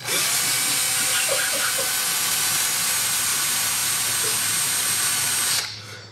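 A power drill with a larger bit whirs continuously at high speed, loud and close, reaming a hole bigger before winding down at the end.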